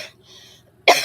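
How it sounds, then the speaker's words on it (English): A single sharp, loud cough bursts out near the end after a quiet pause, with no speech around it. "of course, I get a coughing fit now."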